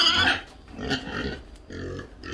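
A large pig in a clean farm pen grunts and oinks in three short close bursts, with a little background farm noise and no speech.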